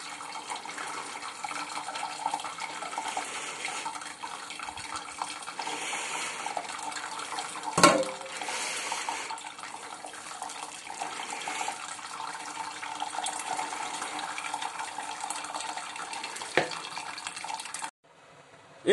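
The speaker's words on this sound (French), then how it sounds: "je vais récupérer mon eau que j'avais fait bouillir et je vais rincer mon malt pour tirer un maximum" Hot boiled water poured steadily over malt to rinse it for home-brewed blonde beer, a continuous close splashing trickle lasting over fifteen seconds with one brief clunk partway through, stopping just before the end.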